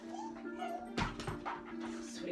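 A dog whimpers and gives a sharp yip indoors during an exercise session, a thin whine followed by a sudden loud yelp near the middle, with a person speaking nearby.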